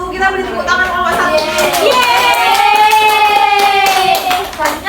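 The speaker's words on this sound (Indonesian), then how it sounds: "Kita beri tepuk tangan kelompok 1." A class of primary school children clap together for a group of classmates in an Indonesian language lesson, a steady patter of hands blended with children's voices and chatter throughout.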